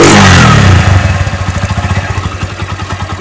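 A standard Honda Megapro motorcycle engine fitted with an RX King 28 carburetor roars loudly up close, dropping from a hard rev into a rapid, lumpy, pulsing idle.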